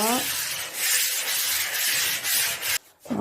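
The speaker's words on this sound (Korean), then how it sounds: "일정하게 한 방향으로만 사포질을 해주세요." Sandpaper rubs an old wooden dresser by hand in long, even strokes in one direction, a loud continuous rasp that breaks off briefly near the end before starting again.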